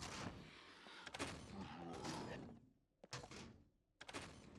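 A zombie puppet opens a door in the survival game Scum: a few sharp wooden thunks and thuds land over a dense, noisy game background, with brief quiet gaps between them.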